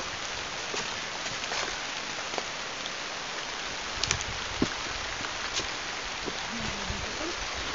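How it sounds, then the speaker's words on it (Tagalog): Heavy rain pours down on a mountain in a dense, constant hiss, with occasional louder drops and splashes standing out. "Yun lang, malakas na ulan."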